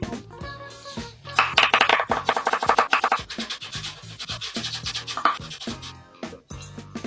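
A kitchen knife chops carrots into shreds on a cutting board, giving rapid, close, rhythmic tapping and scraping strokes that run in quick bursts with short pauses, under faint background music.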